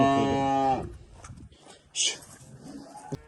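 Cows on a farm in Karabalta give a loud, close, sustained moo that fades out, followed by faint scattered sounds, a brief noisy burst and a short click.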